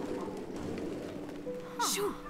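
Cooing bird in the Sea of Solitude video game: a few soft, wavering coos near the end, over a steady game music and ambience bed.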